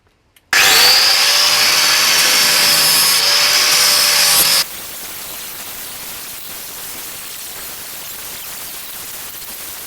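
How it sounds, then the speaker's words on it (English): Flat pad sander grinding rusty metal on a Porsche 928, a loud steady abrasive whine that starts abruptly, runs for about four seconds, then cuts off to leave quiet room noise. "I've gone at it quite sort of aggressively with the flat pad there, just to try and see the extent of it"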